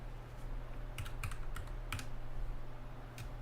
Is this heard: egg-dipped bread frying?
no